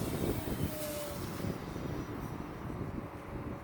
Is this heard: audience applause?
no